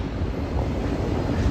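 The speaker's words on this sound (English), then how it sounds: "Very, very windy, so I apologize for the wind noise in advance." Strong wind buffets the microphone on a windy midnight street in Midtown Manhattan, New York City, a loud, continuous low rumble and roar with no break and no talking.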